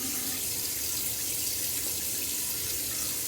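Steady tap water runs into a sink as a face is rinsed after a shave, a constant close rushing hiss with no pauses and no talking.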